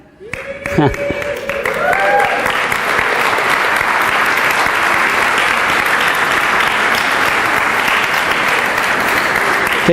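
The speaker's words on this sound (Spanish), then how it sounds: "Qué chistoso que digo pachanga y todos aplauden" A church congregation breaks into applause during a sermon about free weddings: a brief voice and a few scattered claps, then loud, sustained clapping from the whole crowd that holds steady to the end.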